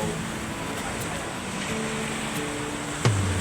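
Ocean waves at the seashore beside a pier during a typhoon's aftermath, a steady low wash of surf with wind noise and a sharp knock near the end.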